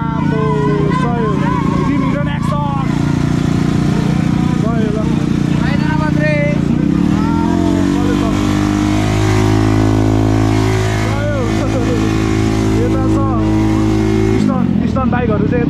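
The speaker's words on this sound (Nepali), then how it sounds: "स्टन्ट सोको बाइकहरू रेडी गर्दैछ, वार्मअप हुँदैछ" Stunt motorcycles revving during warm-up before a dirt stunt show, loud continuous engine drone with repeated throttle blips and rising revs from several nearby bikes, with voices talking over the noise.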